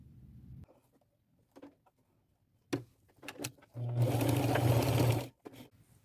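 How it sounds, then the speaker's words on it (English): Close sewing machine running a zigzag stitch to attach ribbon to clothing: a few short stop-start bursts and clicks, then one loud steady whirring run of about a second and a half before it stops. "just go over it a couple times with a zigzag stitch."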